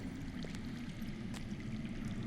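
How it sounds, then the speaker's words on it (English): Underground running water in a Game of Thrones Telltale video game, a faint continuous low gurgling stream with soft splashes, steady and distant throughout. "I hear water. From underground."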